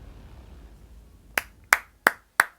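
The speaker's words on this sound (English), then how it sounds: "That's a clap. That's a clap." Four sharp hand claps in a quiet room, spaced about a third of a second apart, close and crisp, following faint background noise.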